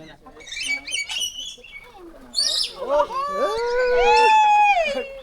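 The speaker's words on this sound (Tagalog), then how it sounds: "Unsa ni Philippine hanging parrot." A Philippine hanging parrot gives high, squeaky chirps and rising, wavering calls up close, mixed with people talking nearby.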